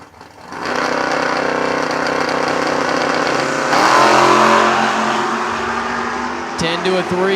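Drag racing cars launch down the strip, loud engines roaring and revving hard, with a sharper surge midway and a continuous mechanical blare until the end.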